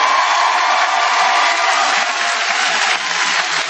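A theatre comedy-show audience bursts into sustained applause and cheering, a loud, dense wash of clapping that holds steady throughout.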